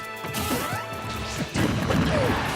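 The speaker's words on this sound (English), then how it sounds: "Nor is he immune to forward smashes." Forward smash hits in a Super Smash Bros. match between Zero Suit Samus or Mario and Sheik, heard as loud crashing impacts over busy game music and effects, with a second heavy hit landing about halfway through.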